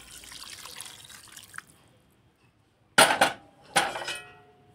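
Boiled water poured into a washed kadai for cooking goat head, landing in two short splashing bursts after a soft running trickle and a brief pause.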